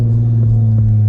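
A straight-piped Nissan 370z drones at around 2000 RPM, a loud, steady, low exhaust rumble heard from inside the car in a single brief stretch.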